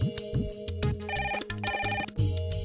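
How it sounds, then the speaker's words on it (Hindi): A telephone rings in repeated electronic bursts, a rhythmic trilling pattern that plays clearly on its own with no talking. "रूपा का ही फोन होगा।"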